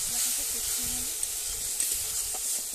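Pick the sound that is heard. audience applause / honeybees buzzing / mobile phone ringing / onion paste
onion paste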